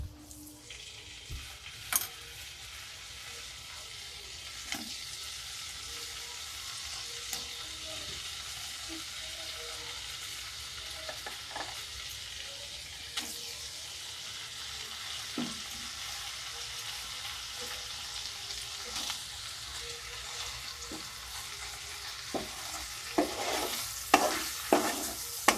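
Paneer cubes frying in melted butter in a pan, a soft continuous sizzle with repeated scraping and clacking stirring strokes that grow busier near the end, no talk.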